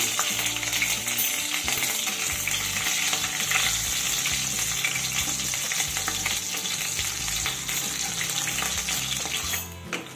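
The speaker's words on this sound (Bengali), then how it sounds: "এখন দিয়ে দেব কালো জিরে ফোড়ন, আর দিয়ে দেব 2টো চেরা কাঁচা লঙ্কা" Nigella seeds and two slit green chillies fry in well-heated mustard oil, a loud, steady sizzle with crackling spatters running continuously and close throughout, with no talking.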